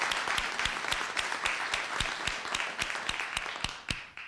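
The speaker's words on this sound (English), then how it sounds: "Let's give another round of applause for this great panel" Applause for a panel at a Senate hearing on the BRAIN Initiative: a room of many hands clapping steadily at moderate volume, with a few sharper individual claps standing out, heard alone.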